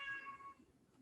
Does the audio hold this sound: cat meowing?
yes